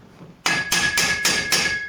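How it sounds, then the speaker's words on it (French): Hammer blows on a steel prop jack being adjusted, four sharp ringing metallic strikes in an even rhythm, close and loud, with a sustained high ring between hits. "Tu peux ensuite prendre un marteau"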